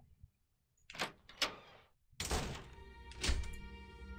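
Locked door being tried in the horror game Ao Oni R: a few sharp wooden thunks and knocks in close succession, then a louder rattling clatter that trails off, alone without talk.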